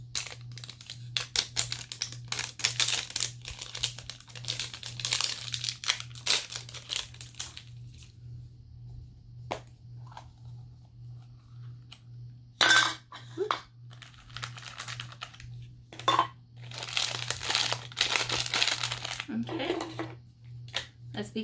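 Plastic and cardboard packaging of a Stitch toy figure crinkles, rustles and tears in bursts, close by, while a person talks throughout over a steady low hum.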